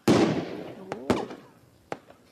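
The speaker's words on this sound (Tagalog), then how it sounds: "Fireworks na." Fireworks from a fireworks video game: a loud opening burst with a crackling decay, then two more sharp bangs spaced about a second apart, each fading quickly, with no talk over them.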